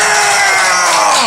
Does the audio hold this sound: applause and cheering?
yes